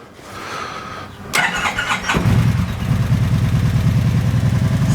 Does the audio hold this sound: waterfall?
no